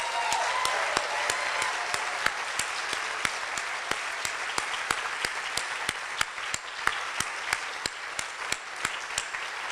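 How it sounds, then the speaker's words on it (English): An audience at an awards ceremony applauds the nominees and winners, with dense, sustained clapping that fills the room and carries a few louder individual claps above the steady wash. "I would like to ask you to please join me in applauding all the nominees and"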